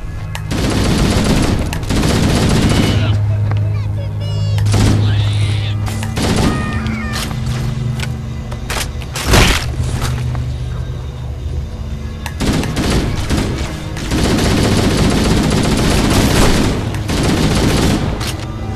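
Dense gunfire from the Halo: Combat Evolved game, with rapid automatic bursts and booming shots layered over a loud battle soundtrack, nearly continuous throughout with a brief lull in the middle.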